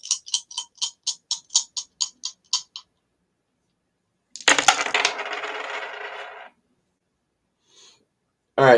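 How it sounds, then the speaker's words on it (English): Astrology dice are tossed: a quick run of light, evenly spaced clicks and taps, then after a pause a sharp clattering rattle that fades, ending with another brief clatter. "Now let's see what's going on with the Astro dice."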